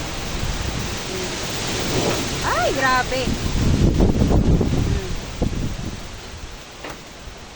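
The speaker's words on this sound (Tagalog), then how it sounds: "Ang lakas ang hangin." Strong gusty typhoon wind roars and rustles continuously through a mango tree, rising and falling, while a person speaks briefly close to the microphone.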